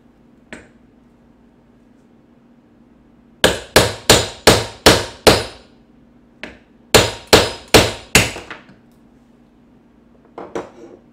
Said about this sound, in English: And for the hammer, we're going to hit right there